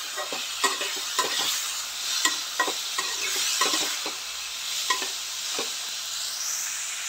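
Poha with peas stir-frying in a pan, an ongoing sizzle punctuated by repeated scraping strokes of a spoon against the pan at an uneven rhythm.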